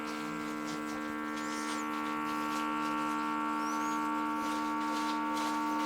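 Vacuum sealer pump running in a kitchen, a steady electric hum and buzz held at an even level throughout, close and continuous with no voices.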